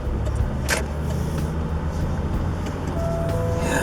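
A car pulls out into passing traffic on a road. Engine and tyre rumble is heard at a moderate distance, with a brief brighter whoosh of a passing vehicle and a faint tonal whine late in the short stretch.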